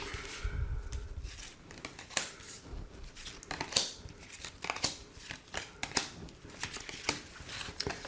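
Oracle cards are shuffled and drawn for a tarot-style reading, giving a steady, soft, rapid patter of card edges riffling and sliding, close and continuous, with no talking.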